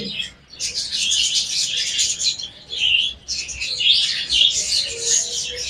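Dense, continuous chirping and tweeting from caged cockatiels, budgerigars and doves at a bird market, a busy overlapping chorus of high calls with occasional coos and wing flutters, steady and fairly loud throughout.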